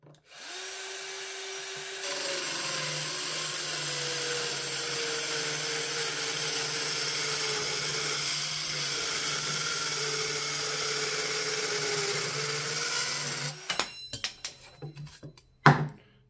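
A Bosch GKS 12V-26 cordless circular saw fitted with a Parkside blade cuts steadily through wood with a loud, sustained whine that strains slightly, then spins down into a few scattered clunks and knocks.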